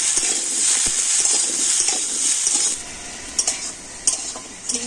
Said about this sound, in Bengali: আর এখন আমি তেলের দিতে আলু আর ঝিঙেটাকে ভেজে নেবো হালকা করে